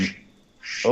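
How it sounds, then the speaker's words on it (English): A phone rings with a duck-quack ringtone, two short nasal quacks bracketing a brief gap, loud and close. "A duck."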